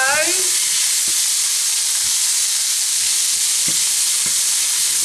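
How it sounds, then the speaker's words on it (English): Food frying in a saucepan for beef and refried bean quesadillas, a steady loud broadband sizzle throughout with a few soft clicks of stirring, no talking. "And I'm going to fry these now for a few minutes."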